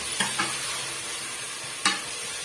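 Mashed tomatoes sautéing with masala in a pan for a mutton dish, a steady low sizzle broken by a few sharp scrapes of a spoon stirring, close up and without talk.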